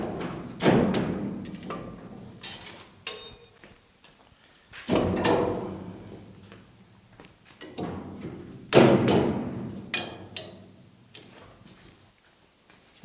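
A GTO body mounted on a restoration rotisserie is shoved sideways across a shop floor, giving a series of heavy thumps, metallic knocks and scraping slides that come in bursts and fade between pushes.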